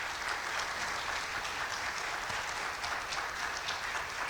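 An audience applauds after a state representative's legislative update speech, a dense, steady burst of clapping that fills the whole stretch at close range, with no voices standing out.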